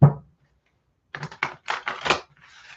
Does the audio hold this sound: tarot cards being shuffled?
yes